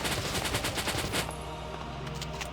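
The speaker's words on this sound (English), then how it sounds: "Please don't shoot at Alicia." Rapid gunfire from squad combat in the video game Valkyria Chronicles, a dense burst of repeated shots for about a second that gives way to a fainter rumbling battlefield background.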